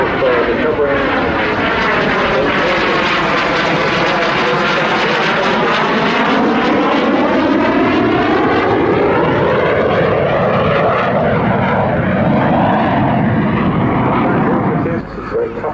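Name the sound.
propeller aircraft flying at airshow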